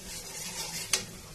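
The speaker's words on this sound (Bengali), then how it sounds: "আমি এখন কড়াইতে তেল দিয়ে নিলাম, তারপরে পেঁয়াজ দিয়ে দিচ্ছি। পেঁয়াজটা কিছুক্ষণ নেড়ে ভাজা ভাজা করার পরে" Onions stir-frying in hot oil in a wok give a faint, steady sizzle with soft stirring scrapes and one sharp utensil clink near the end, with no voices.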